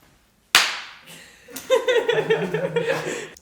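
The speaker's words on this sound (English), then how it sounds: "I'll do my little clap" One sharp hand clap rings out near the start of an interview with a ceramic artist and sculptor, followed by a soft chuckle and quiet voices.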